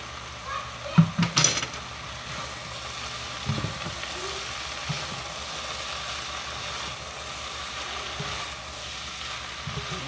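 Pancit fries and sizzles in a pan while being stirred, a steady hissing bed with a few louder scraping clatters near the start and softer stirring knocks later, close and moderately quiet.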